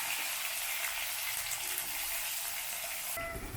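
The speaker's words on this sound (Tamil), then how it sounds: "கடுகு பொரியும் போது பச்சை மிளகா, கருவேப்பிலை, வெங்காயத்தை போட்டுக்கலாம்." Mustard seeds splutter and fry in hot oil for a tomato kulambu, a dense, continuous crackling sizzle heard up close and alone, ending abruptly.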